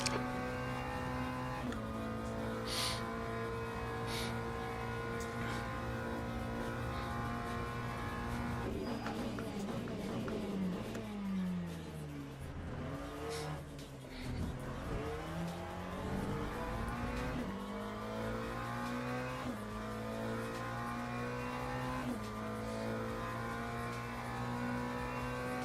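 Race car engines in the Le Mans Ultimate sim, one loud steady engine droning, then dropping and climbing through gear shifts with a deep swoop of braking and re-acceleration, tire noise underneath, no voices.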